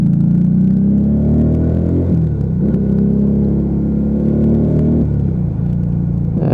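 A Lexmoto Vendetta motorcycle engine burbles along at a steady 3000 RPM on small roads, a loud continuous low rumble with slight dips in pitch, recorded close up while riding.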